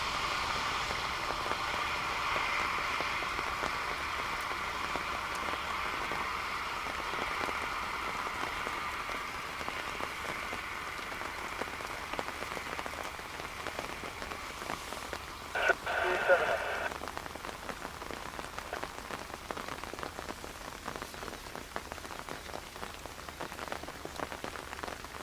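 Steady rain falls at Dublin Airport on a wet Monday, a dense even hiss of drops on surfaces throughout, with a brief louder patter or rustle near the middle and a faint voice now and then.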